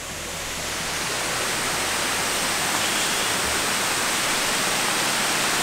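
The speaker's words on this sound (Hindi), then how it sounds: "तो ये है कुसमल का वाटरफॉल" Koshmal Bhigu waterfall near Surat roars as a steady, dense rush of falling water that fills the whole clip at an even, loud level, with no voices.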